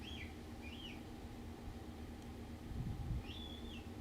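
A few faint outdoor bird chirps, three short separate calls, sound over a steady low background hum.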